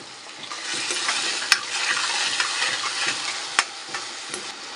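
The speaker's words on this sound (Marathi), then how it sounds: "टोमॅटो थोडा शिजवून घेऊया" Tomatoes are stirred in a hot pan while they sizzle steadily, with a few sharp scrapes and clinks of the spoon against the pan, close and clear.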